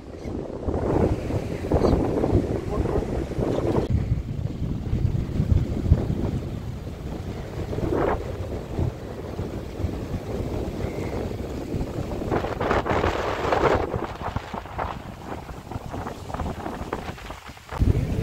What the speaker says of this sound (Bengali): এখন দুপুর 2টো বাজে কিন্তু এত পরিমাণ হাওয়া দিচ্ছে যে আমরা রুমের এসিকে উপেক্ষা করে এখানে এসেছি সমুদ্রের হাওয়া খেতে।